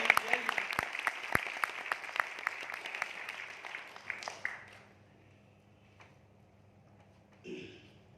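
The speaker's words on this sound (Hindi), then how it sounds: "एक ताली होती सोमनाथ जी के लिए" Audience at a talk in Siliguri gives a round of applause, scattered sharp claps fading out within a few seconds, followed by quiet room tone and a short voice.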